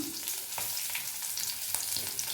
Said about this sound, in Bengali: এবার এর মধ্যে আমি পেঁয়াজটা দিয়ে দেবো পেঁয়াজটা দিয়ে দিলাম